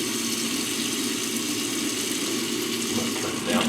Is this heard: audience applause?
no